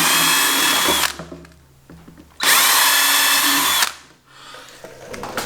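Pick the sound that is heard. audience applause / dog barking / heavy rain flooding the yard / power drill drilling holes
power drill drilling holes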